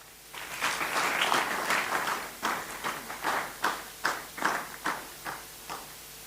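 Audience applause at the Kenya Space Innovation and Investment Forum 2025 as a speaker is welcomed onto the stage, a dense crowd of clapping that thins into scattered, fading individual claps.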